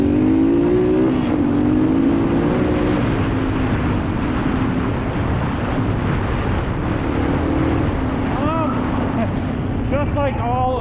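A Honda Fat Cat big-tire dirt bike engine revs and drones loudly and up close as it is ridden, the pitch rising and falling through the run, with some voices talking over it.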